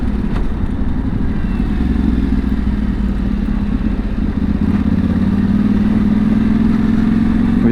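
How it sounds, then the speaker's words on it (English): Engine noise from a tractor hauling wood as it passes on a muddy road, a steady rumbling drone that stays loud throughout, heard close over a motorcycle's own running engine. "Now here's a tractor"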